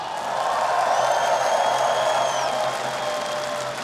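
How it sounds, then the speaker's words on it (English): A large esports grand final crowd at PGL Astana applauds and cheers in a steady, dense roar that holds for several seconds before easing slightly. "Give a big round of applause, make some noise for Zershan and MOUZ!"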